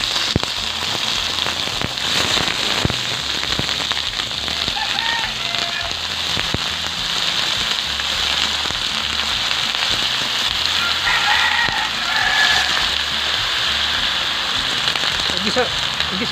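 Native chicken pieces sizzle and crackle as they sauté in a pan with garlic and onion, a steady loud frying hiss with scattered pops, and a person talks over it.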